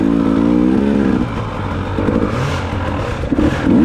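A dirt bike engine revs at an enduro race, loud and close, holding a steady drone, then dropping and picking up again in short throttle blips.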